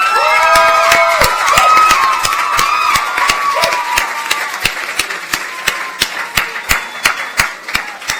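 An audience at a youth awards ceremony cheers and claps, with loud whoops and voices at first, then the noise settles into a steady run of sparse, distinct claps.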